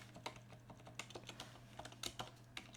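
Rapid, uneven keystrokes on a computer keyboard, a short burst of close, crisp clicks over a steady low electrical hum.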